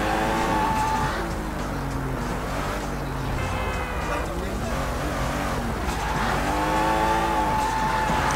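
A fast car in the video game Sleeping Dogs roars along with a steady engine drone, rising and falling revs and brief tire squeals, loud and continuous.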